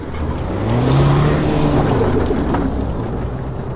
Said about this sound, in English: Sometimes when you want the boost from that engine, you've got to wait a little bit.